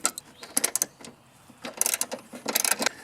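A hand ratchet works loose 14 mm strut shock tower bolts on a car, giving short bursts of quick metallic clicking with brief pauses between the runs, close and clear.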